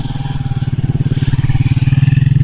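A motorcycle on a muddy farm track rumbles close and loud with a steady, throbbing engine pulse that swells slightly as it passes, filling the short stretch without pause.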